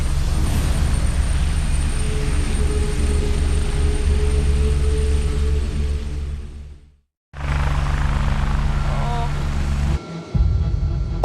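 Helicopter flying during a patient airlift to hospital, a loud continuous rotor and engine roar from inside or close by, with a brief drop-out partway through before the heavy drone resumes.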